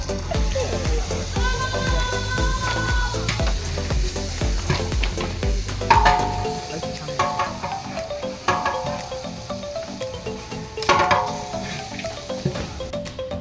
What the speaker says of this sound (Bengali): এখানে মাত্র মাংস ভাজা হইতাছে।